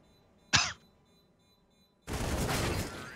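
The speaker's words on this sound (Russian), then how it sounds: "Так, кто там у них раскашлялся?" A single short, sharp cough rings out clearly on a quiet background during a Counter-Strike match on Overpass, followed after a pause by a louder burst of harsh, noisy clatter.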